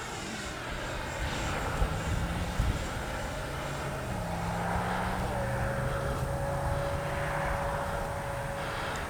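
Freewing Red Hawk T1 70mm electric ducted-fan RC jet flying at about half throttle, giving a steady whooshing whine with a shifting tone and airy wind noise throughout, heard from the ground.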